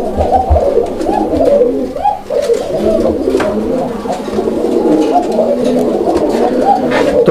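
Male Raj Golla pigeon in breeding mood coos repeatedly in low, rolling calls, loud and close, with other pigeons and a voice murmuring in the background.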